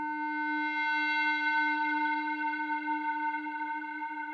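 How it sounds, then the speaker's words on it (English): A Eurorack modular synth sustains a steady, rich harmonic drone washed in a giant blooming reverb, holding evenly at moderate loudness with no talk over it. "Giant blooming reverb."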